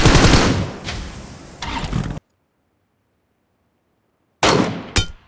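Automatic gunfire in the mobile battle royale game PUBG Mobile cracks out in loud, close bursts, falls into total silence for about two seconds, then returns as two short, sharp volleys.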